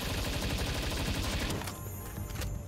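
Rapid bursts of gunfire from the Palworld video game, dense and loud for the first half, then sparser shots over a lingering game soundscape.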